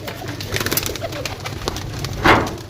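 Soft pigeon cooing sits under a rustling, noisy background, with a brief louder flutter or scrape near the end.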